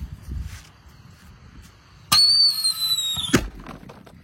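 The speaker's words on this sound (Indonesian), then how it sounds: "di sini ada mercon Blackbuster yang sering kita gunakan untuk buntelan kertas ya" Blackbuster firecracker going off inside a gallon water jug, a sudden loud crack followed by a ringing, whistling tone lasting about a second before cutting off, with quiet outdoor background before and after.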